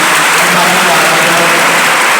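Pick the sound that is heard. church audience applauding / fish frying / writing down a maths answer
church audience applauding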